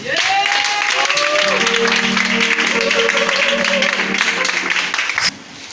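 A church congregation applauds and cheers for the Lord, steady dense clapping and crowd noise throughout, with a sustained voice and musical tones rising over it before the sound drops away near the end.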